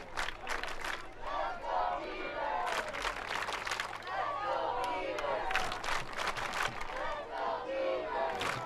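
Stadium crowd at an Oregon State vs. Washington men's soccer match, a continuous loud roar of cheering and shouting with rising swells, spread wide around the field.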